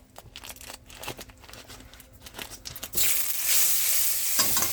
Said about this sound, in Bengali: দিচ্ছি রসুন কুচি। রসুনটা ভাজতে হবে ভালো করে।